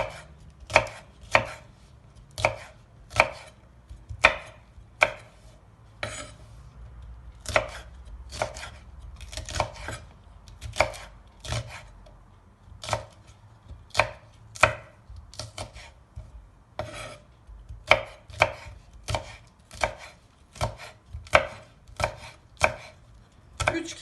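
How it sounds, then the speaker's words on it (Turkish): Rapid, steady knife chops through peppers on a cutting board, crisp and close, in quick bursts with brief pauses between runs. "Şimdi biberlerimi bu şekilde doğrayacağım."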